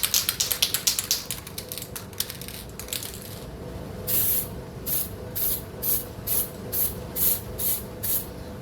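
Spray paint lays an undercoat of light coats in a small homemade spray booth. Faint clicking comes first, then a close, rhythmic series of short, sharp hissing spray bursts.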